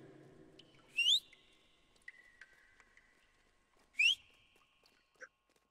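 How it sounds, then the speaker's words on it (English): A character whistle repeatedly triggered in a video game, two sharp rising whistle bursts several seconds apart over a quiet background with faint scattered game tones. "I'm spamming the whistle."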